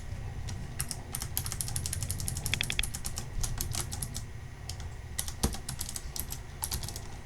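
Rapid keyboard keystrokes and mouse clicks at a computer while working in ZBrush 2018, close and crisp, arriving in irregular bursts over a low steady room hum, with no talking.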